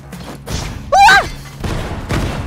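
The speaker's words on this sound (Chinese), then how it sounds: "突然搞这么大爆炸！" A big explosion in the action video game F.I.S.T.: Forged in Shadow Torch (暗影火炬城) lands as a loud, sudden burst lasting about a quarter second, rising above the steady in-game background sound.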